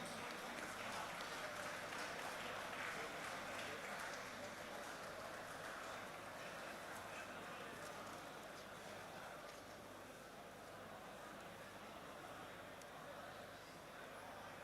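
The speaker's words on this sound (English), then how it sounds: "Comrades, please give a round of applause while we felicitate our zonal managers." Sustained round of applause from a conference audience of bank officers honouring zonal managers, a steady dense wash of clapping lasting throughout at moderate, slightly distant level with faint voices underneath.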